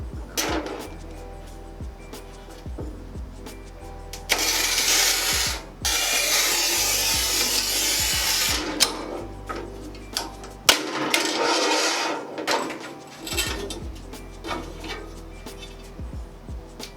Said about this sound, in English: Very clean and easy cut on this hard porcelain tile.